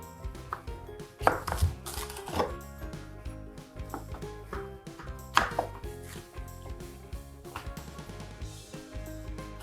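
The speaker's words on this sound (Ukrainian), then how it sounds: "Розрізаємо огірок на три частини, будемо різати його соломкою" A knife chops through cucumber on a cutting board, cutting it into julienne strips, giving a steady run of crisp, close taps over background music.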